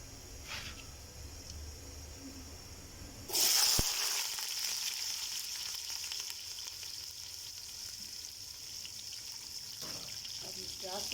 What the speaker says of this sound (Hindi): अब इसमें मैं डालने लगी हूँ प्याज।